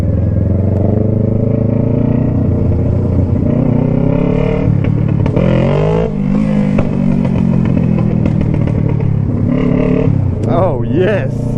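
A two-stroke motorcycle engine revs up and down in a loud, buzzing drone, rising and falling in pitch throughout, with people talking over it.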